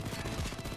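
Gunfire in the video game Payday 2 during a heist, a fast burst of repeated shots in quick succession, moderately loud and brief.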